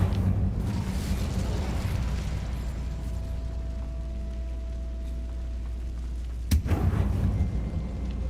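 Incendio fire spell cast in Hogwarts Legacy: a sharp, loud whooshing burst flares near the end over a steady low rumble of ambient game sound.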